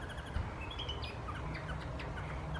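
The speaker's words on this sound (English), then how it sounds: "Apparently that is a red-billed blue magpie." A red-billed blue magpie at ZSL Whipsnade zoo gives a series of short, scattered chirps and calls, faint to moderate against a low background rumble, with no talk.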